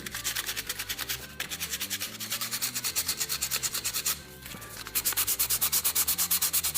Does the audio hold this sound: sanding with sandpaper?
yes